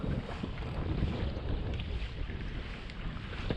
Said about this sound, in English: The wind's actually calming down a little bit.